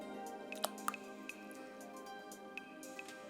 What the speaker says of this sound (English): we're just gonna put this bouillon cube in the water here